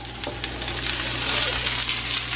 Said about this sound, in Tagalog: Tapos lagyan na natin itong sibuyas or onions kasi hindi na ako mapaghintay